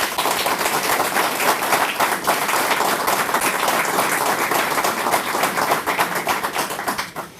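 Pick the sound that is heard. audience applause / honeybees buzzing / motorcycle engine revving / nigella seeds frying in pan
audience applause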